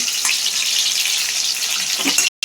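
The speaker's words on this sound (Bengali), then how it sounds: "তেলের মধ্যে দিয়ে দিচ্ছে পেঁয়াজ আর টমেটো।" Onion and tomato fry in hot oil for a home-style chicken biryani, giving a loud, continuous sizzle and crackle close by that cuts out briefly near the end.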